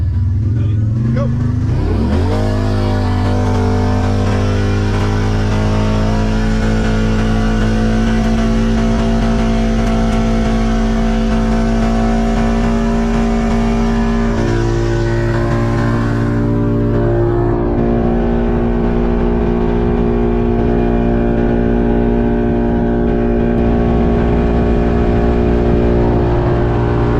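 A Kawasaki Teryx4 800 UTV accelerating from 0 to 60 on a gravel road, a loud close engine drone that climbs quickly, holds a steady strained pitch and shifts tone partway through.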